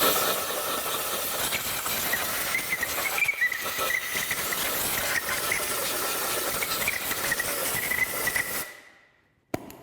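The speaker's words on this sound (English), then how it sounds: "Good thing to do afterwards is to blow the debris out." Compressed air blows debris out of an engine block in a loud, rough continuous hiss with rushing, scraping texture for nearly nine seconds, then cuts off and fades, followed by a single faint click.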